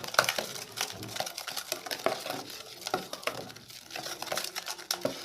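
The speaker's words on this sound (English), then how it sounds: "Then you mix." Cake batter with blended pumpkin leaves mixed in a bowl, soft irregular scraping and stirring strokes with light clinks of a utensil, close and quiet, no speech.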